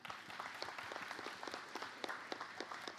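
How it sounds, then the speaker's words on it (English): A fairly faint, distant round of clapping from an audience at a secondary school's end-of-year concert evening, with dense, scattered hand claps continuing steadily for a few seconds. "If we can give them a round of applause"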